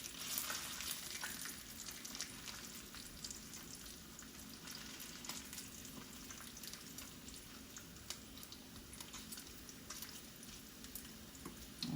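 Bacon fries in a pan with a quiet, even sizzle and faint tiny spatters throughout, steady and close with no voices.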